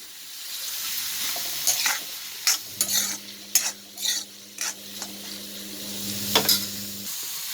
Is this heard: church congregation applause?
no